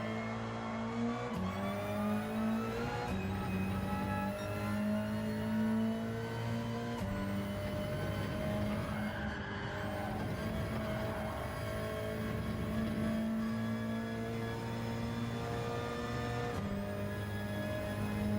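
A race car in Gran Turismo 7 accelerating around a track, its engine note climbing through the revs with abrupt drops at gear shifts, loud and sustained throughout.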